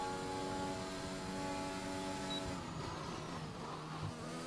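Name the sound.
McLaren race car passing in a racing video game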